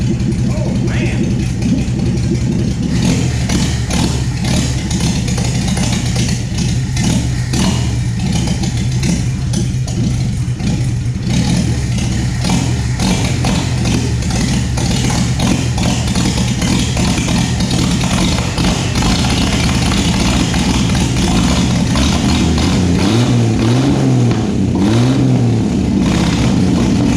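A roadster pickup project engine runs continuously close by, its pitch rising and falling as it revs up and settles back, with people talking over it.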